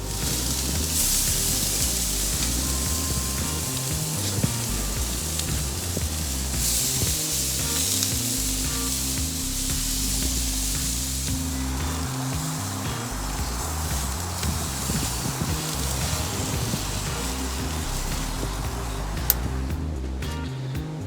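Teriyaki steak sizzles on a grill, a steady broad hiss that holds for about twenty seconds, with a brief shift in texture partway through and a couple of small pops, and no talking.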